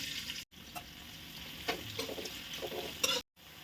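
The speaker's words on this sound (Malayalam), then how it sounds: "ഇതിലേക്ക് 4 സവാള സ്ലൈസായിട്ട് അരിഞ്ഞത് ചേർത്ത് കൊടുക്കാം." Four sliced onions sizzle in oil and ghee while being stirred, producing a steady crackling hiss broken by scraping spoon strokes. The sound cuts out briefly twice, and the pan is heard close up, with no talking.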